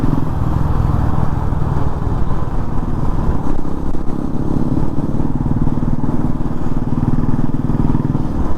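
A motorcycle engine drones steadily and loudly throughout in heavy weekend traffic full of cars and bikes heading back to Bengaluru, with a constant low rumble and road noise around it, no talking heard.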